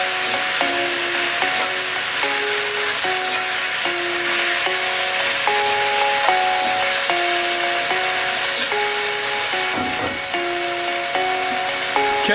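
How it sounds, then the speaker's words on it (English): Beef and broccoli stir fry sizzles steadily in a hot pan while being stirred, a continuous close hiss running beneath background music. "So what I'm doing now is I'm just stirring it around so all that sauce can get into the broccoli"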